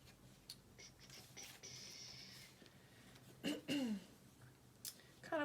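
Faint snips and rustles of scissors trimming a paper triangle, a few scattered cuts close by with soft paper handling, a brief vocal sound near the middle.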